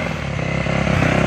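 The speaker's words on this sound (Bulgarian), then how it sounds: "Ето ми там мотора." Motorcycle engine droning loud and steady at close range with a slight pulsing rhythm, riding over rough ground with roots on a forest trail.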